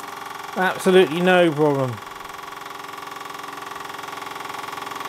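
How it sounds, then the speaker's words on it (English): A large scratch-built overtype model steam engine runs with a smooth, steady, rhythmic purring hum. Someone speaks briefly over it at the start, then the engine carries on alone. "when an engine purrs away like that"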